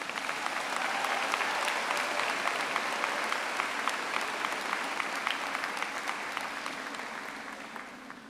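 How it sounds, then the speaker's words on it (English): Sustained, dense applause from a large commencement audience fills the space for several seconds and gradually thins toward the end. "let's recognize them and give them a round of applause"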